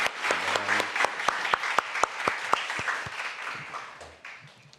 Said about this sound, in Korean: 우리 하나님께는 더 큰 영광의 박수 올려드리겠습니다.